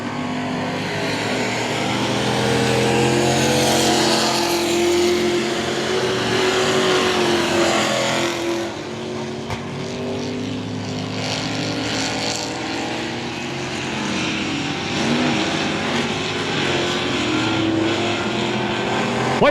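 Dirt race trucks in the Texas Dirt Truck Series roar around the I-37 Speedway dirt track during a late-lap race, a loud continuous engine drone with revving that swells and thins as the pack passes, no talk.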